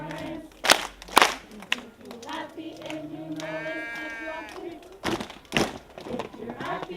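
Children clap their hands along to a sung children's song, sharp pairs of claps landing in rhythm between sung lines, with the singing voices carrying throughout.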